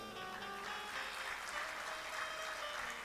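An audience at a Hindi Shiv Mahapuran katha claps in a dense, steady roar of applause that holds evenly throughout without a break.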